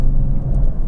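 A Lexus LC500h V6 engine hums low and steady inside the car while driving at around 70–80 km/h, with a continuous loud road rumble and no talking.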